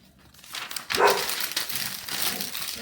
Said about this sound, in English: I'm gonna crumple more.